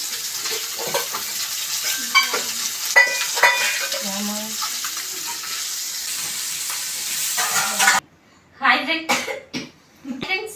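Fish frying in a pan at home, a sizzling hiss with stirring and clinks of cookware, broken by coughs and people talking over it, then dropping out into short bursts of talk near the end.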